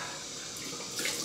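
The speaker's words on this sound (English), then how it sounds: "cold water on my face" Cold tap water splashes onto a face at a sink during a shave: a short, quiet burst of close splashing and running water lasting about a second.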